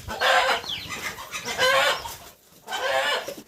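A hen clucks and squawks in agitated bursts close by, with a short pause before another loud run of clucking.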